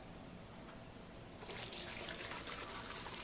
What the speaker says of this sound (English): I'm just going to pour right through the strainer